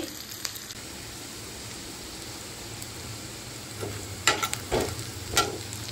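A constant low sizzle of cumin and coriander paste added to fried onions in a pan, then several loud scraping stirs toward the end, close and unaccompanied by speech.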